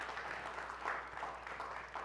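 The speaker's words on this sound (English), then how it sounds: "And yes, applause." Audience in a forum hall clapping after a talk, a soft, fairly distant patter of applause that stays even throughout.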